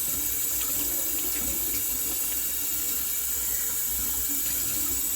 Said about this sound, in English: you want the water to run clear when you do this